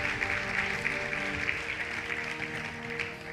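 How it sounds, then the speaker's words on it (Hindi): An audience claps together in a hall at a network marketing seminar, a dense steady patter of many hands lasting a few seconds at moderate loudness. "तालियां बजाइए हमारे रवि जी के लिए और महावीर जी के लिए"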